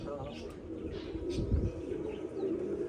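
Pet pigeons coo softly in a loft setting, a low repeated burbling sitting under faint nearby voices and background noise.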